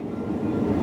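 A combine harvester's engine running up to speed after the throttle switch is hit, a steady loud low-pitched mechanical roar with a continuous rumbling drone that holds throughout, no voices.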